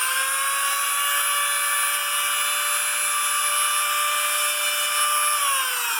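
A power tool grinding a burr off a homemade gasket gives a steady, loud, high-pitched whine that holds one pitch for several seconds and then drops slightly at the end.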